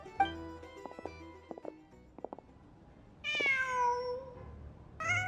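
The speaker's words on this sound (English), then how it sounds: "Just a cat." Cat in the video game Genshin Impact, several short chirpy meows and clicks followed by two longer, louder drawn-out meows, close and clear against a quiet background.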